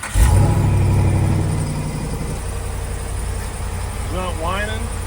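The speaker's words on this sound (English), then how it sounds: "I'm gonna just let it idle for a minute, see if we can get the pump to prime." A vehicle engine, just put back together after a repair, idles steadily to prime the pump, a loud low rumble that settles to a constant drone, with a brief voice near the end.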